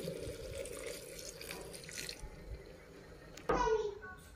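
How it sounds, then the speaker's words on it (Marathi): Hot water pours briefly and loudly into a pan while goat tripe (vajdi) cooks, a short splashing gush near the end after a steady low hiss. "आता आपण ह्यात ती गरम पाणी टाकून घेऊ।"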